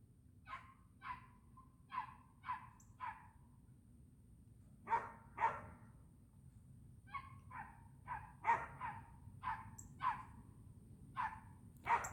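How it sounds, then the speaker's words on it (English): Dogs bark outdoors behind a house, a series of about fifteen sharp, repeated barks in uneven bursts at moderate distance over a low steady background hum. "I don't know if y'all can hear it, but my dogs just went out back."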